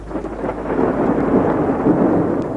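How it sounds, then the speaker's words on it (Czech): Thunder in a Czechoslovak drama film, a loud rolling rumble swelling and sustaining for a couple of seconds with a rain-like hiss over it, no voices. "To nic není, to je hrom."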